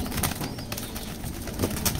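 Racer pigeons nearby, with soft cooing and brief bursts of wing flapping in a short, busy stretch of bird sound.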